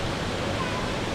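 Strong inflow of water rushing into a cold spring swimming pool, a dense, even roar of pouring water that holds steady and close for a brief moment.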